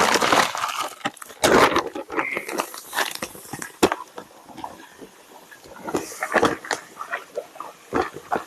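Sugar poured into a large 50-gallon moonshine mash, heard as irregular gritty rushing and crackling bursts with short pauses, close and fairly loud.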